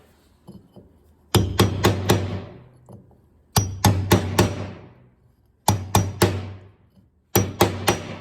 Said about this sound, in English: we want to get a tool, a hammer, and a punch